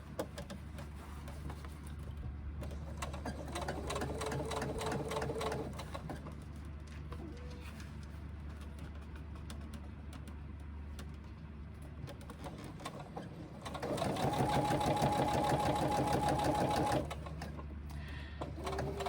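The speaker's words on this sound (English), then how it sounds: "we top stitch across the back, making sure that seam is pointing down" A sewing machine top-stitches across the back of a fabric sling in two steady, rapid runs, one early and one near the end, separated by a quieter pause, with pigeons cooing softly in the background.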